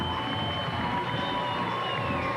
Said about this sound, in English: John Deslin and his sidekick Bird Zerk get a nice round of applause from the fans here at Cashman Field